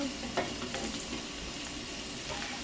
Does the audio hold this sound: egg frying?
yes